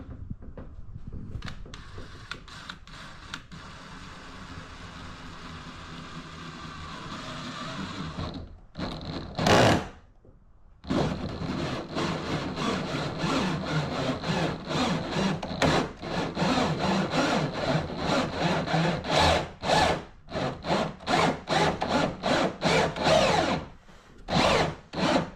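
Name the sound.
drilling a hole in a Hobie kayak hull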